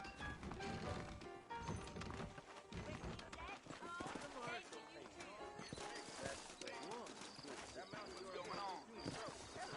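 Horse hooves clip-clop in the Red Dead Redemption video game, a steady run of hoofbeats woven through dense game music and ambience, with speech heard over the top.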